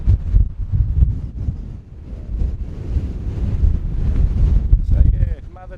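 Strong coastal wind blows in gusts along cliffs near Kalbarri, rumbling as heavy buffeting against the microphone, loud and close. It eases briefly partway through before building again, and faint speech sits under the gusts.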